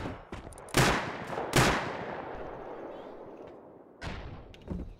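Rocket launches and heavy explosive blasts during a base raid in a survival video game, with several sharp loud bangs that decay into rumbling, a pause, then two more blasts near the end.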